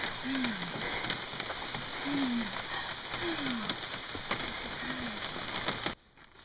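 Steady rain patters on the ground and surrounding surfaces during a canoe portage up a slippery hill in Algonquin, with a wavering low call repeating four times over the wash, before the sound cuts off abruptly near the end.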